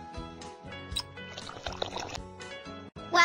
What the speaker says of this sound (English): Pour the mixture into the mold.